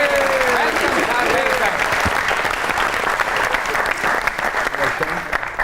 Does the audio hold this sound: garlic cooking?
no